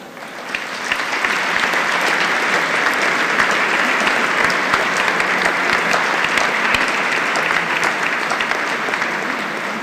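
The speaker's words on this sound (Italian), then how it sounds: "A questi 9 fratelli nuovi, glielo vogliamo fare un bel applauso." A church congregation applauds during an Easter Vigil Mass, a dense, loud, sustained wash of clapping that rises quickly and carries on evenly to the end, with no talk over it.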